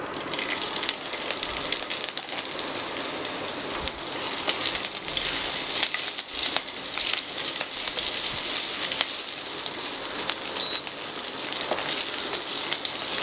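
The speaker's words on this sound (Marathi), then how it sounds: "मिरची चांगली परतून घेऊया।" Green chilies sautéing in hot ghee with cumin, a steady close crackling sizzle with fine popping spatter that runs continuously throughout.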